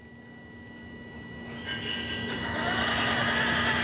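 Axial Capra UTB18 4WS RC truck motor at slow throttle, a thin steady electric whine that swells and grows louder partway through, close by, no talk.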